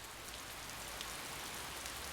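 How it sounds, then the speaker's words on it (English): Rain falls in the video game Hakuoki, a steady, soft, even hiss of downpour with no other sounds and no talk. "I don't think we've seen rain before till now."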